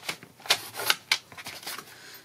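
Paper being cut for a handmade lavender mini album, about 2 cm trimmed off, giving a few crisp snipping and rustling bursts spaced out over a couple of seconds, close and moderately loud with no talking.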